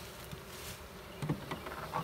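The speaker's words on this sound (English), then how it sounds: "So this is a swarm that came into the swarm box, and now we have some stragglers" Honeybees from a swarm buzz around a swarm box, with a continuous hum broken by a few louder buzzing passes as individual bees fly close.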